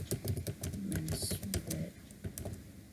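Rapid, irregular clicking of keys on a computer keyboard during web page coding, with bursts of close keystrokes that keep going throughout.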